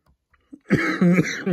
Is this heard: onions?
no